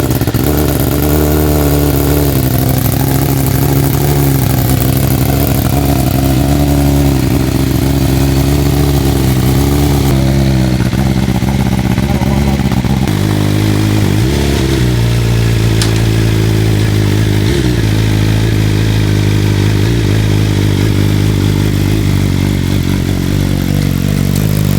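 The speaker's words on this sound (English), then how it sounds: "This is my 2018 Subaru WRX Sti." A 2018 Subaru WRX STI starts up close by, then idles and revs repeatedly, its loud rumbling engine rising and falling in pitch with a few sharp blips.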